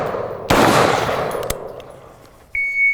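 A loud single gunshot during a timed shooting drill with carbine and pistol, with a second fainter crack a second later and a beep from the shot timer near the end.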